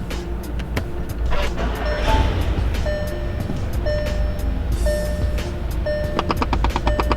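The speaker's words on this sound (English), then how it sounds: "There's like this weird little like sound coming through the AC." Inside a Volkswagen Golf GTI MK7 with the engine just started, the air conditioning gives off a repeated faint electronic beeping or chirping over a steady fan and engine hum, with clicks scattered throughout.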